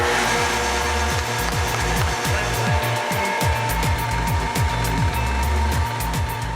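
A homemade coffee grinder rebuilt from car engine parts in Panama runs continuously, a loud, close mechanical drone with fast, regular rhythmic pulses like a revving motor.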